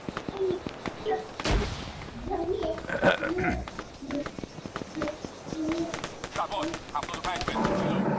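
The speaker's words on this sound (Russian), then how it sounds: "А мен обычный автомат штурмую." Automatic rifle fire in the Arma 3 military game, rapid bursts of sharp shots scattered throughout under excited voices talking over the action.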